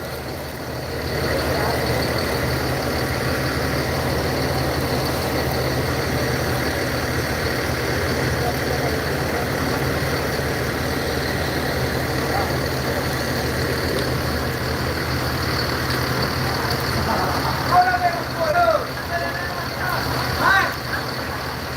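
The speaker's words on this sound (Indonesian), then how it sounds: "Jadi ini bus terbaru bosku" A large new bus engine idles with a steady low rumble throughout, and a brief clatter near the end.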